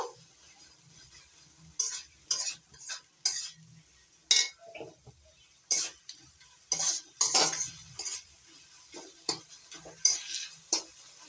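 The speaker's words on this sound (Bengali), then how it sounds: "এবার দিয়ে দিচ্ছি এক চামচ হলুদ মশলাটা ভালো করে কষিয়ে নেব" Turmeric and spices, with the cooking for jackfruit, are stirred in a pan: a faint background sizzle broken by repeated sharp scrapes and clinks of a spatula against metal, irregular and close, with no talk.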